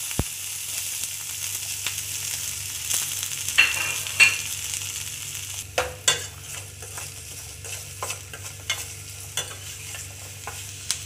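Chopped onion and capsicum sizzle steadily in a hot pan while a spoon stirs them, scraping and clinking now and then, close and fairly quiet with no talking.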